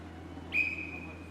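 A sharp referee whistle blast in the Not For Broadcast video game, a single bright sustained tone held for about a second over a low steady background.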